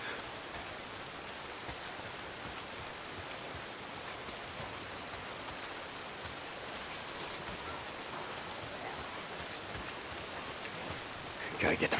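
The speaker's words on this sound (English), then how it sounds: "It's not the freaks, it's the goddamn rain." Steady rain pours in the Days Gone video game world, a dense constant hiss of drops on surfaces running unbroken throughout, close and fairly loud, with no voices over it.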